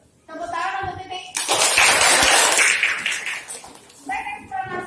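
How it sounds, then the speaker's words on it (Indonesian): Classroom of students claps for a classmate during a lesson, a short loud round of hands lasting a couple of seconds, bracketed by a teacher speaking before and after. "Tepuk tangan untuk titik."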